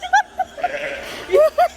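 A little goat gives several short, high, quavering bleats close by, with soft voices and light chuckling mixed in between the calls.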